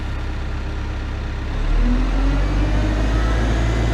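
A JCB 214 backhoe loader's diesel engine idles with a steady low rumble, then rises in pitch and loudness as the throttle comes up about 1.5 seconds in and holds at the higher, louder drone.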